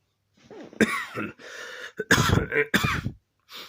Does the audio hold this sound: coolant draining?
no